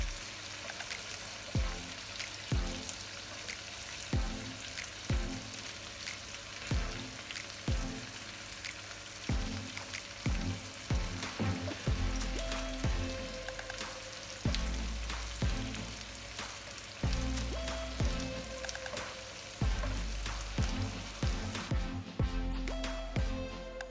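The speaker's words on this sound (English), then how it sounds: "Add the shrimp to 2 tablespoons of oil." Shrimp fry in two tablespoons of oil, a soft steady sizzle with regular low knocks and pan taps at an even rhythm, fairly faint and without speech.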